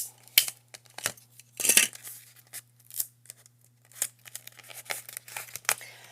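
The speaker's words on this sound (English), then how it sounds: "Okay, and I will attach that with a piece of tape." Tape being torn from a roll and pressed down during a paper craft project, heard as several short, sharp ripping and crinkling bursts close by, separated by quiet gaps, with no talking.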